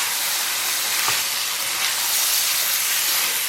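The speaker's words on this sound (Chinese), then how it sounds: "然后把牛肉给它下里边，反复煸炒。" Beef stir-fries in a hot pan with soy sauce, giving a dense, even sizzle and hiss at close range, with faint stirring under it.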